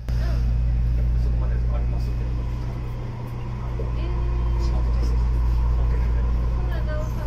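Steady low rumble and hum inside the 2011 Kinki Sharyo-built Osaka Metro linear-motor subway car 7113 while riding, continuous and fairly loud with faint higher whines and rattles.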